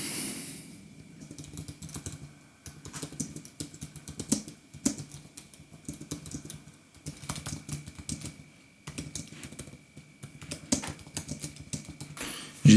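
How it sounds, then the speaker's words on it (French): Fast, steady typing on a computer keyboard, done without looking at the keys, makes dense clattering bursts of key clicks with brief pauses between runs, close and alone. "J'ai saisi littéralement sans regarder mon clavier."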